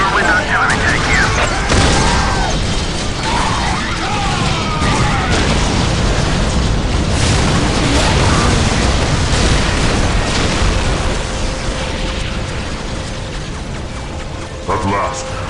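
Artillery tank cannon blasts and explosions in a video game, booming repeatedly across the scene amid dense battle noise, with game voice lines heard over the action.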